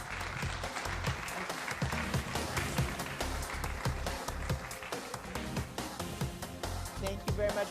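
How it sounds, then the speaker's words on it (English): Audience clapping after a comedy panel at a business conference, with crisp individual claps over a low rumbling background, fairly quiet and steady throughout, and voices faintly mixed in. "A big round of applause for our comedy session."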